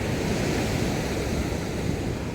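Continuous broadband wash of ocean surf at Kayu Menang beach, steady and close with wind noise blended in, no voices.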